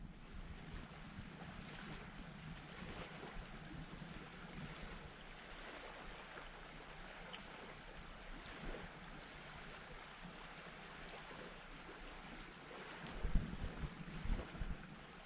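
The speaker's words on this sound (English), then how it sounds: "So we're paddling across Smith Lake right now, going into McManus." A canoe is paddled across Smith Lake toward McManus on a Petawawa River trip, with faint water lapping and wind noise throughout and a few soft paddle splashes near the end, no speech.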